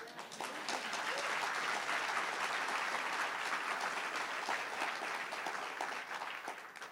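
An audience at a public library talk in Wilmington, Delaware breaks into sustained applause, a dense wash of clapping that swells quickly and holds steady for several seconds before tapering slightly.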